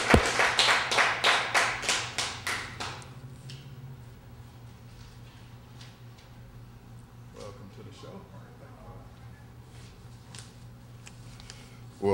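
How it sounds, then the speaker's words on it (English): An audience at a 2008 poetry reading in the Bayview Branch Library applauds poet Henry Calhoun. A few seconds of crisp, rhythmic claps quickly die away into a hushed room. "Let's give Henry a great round of applause."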